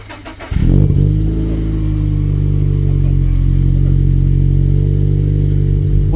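Car engine revving hard on a Gunma mountain pass drive, starting with a sharp burst then holding a loud, steady high-rev drone close by for several seconds.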